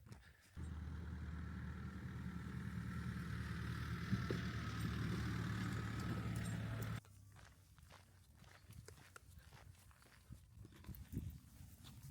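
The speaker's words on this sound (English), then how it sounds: "massive freaking tractor coming" Large tractor passing along a rural lane, a loud steady engine drone that cuts off abruptly partway through, leaving quieter footsteps and outdoor rustling.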